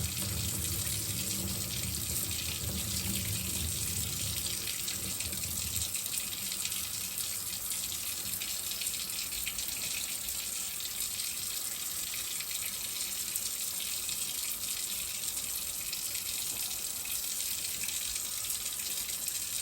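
Running water from a tap splashing steadily into a sink while rinsing sprouting seeds, a continuous close gush that stays even throughout with no talking.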